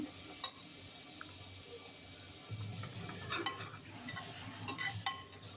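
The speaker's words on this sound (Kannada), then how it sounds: "ಇದು ಸ್ವಲ್ಪ ಫ್ರೈ ಮಾಡ್ಕೊಳ್ಬೇಕು" Vegetables and rice frying in a pan for a breakfast rice dish, a low steady sizzle with scraping stirs and a few light metallic clinks of a utensil, close and alone.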